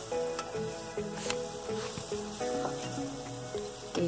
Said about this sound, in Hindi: अब इसको अच्छे से फ्राई करना है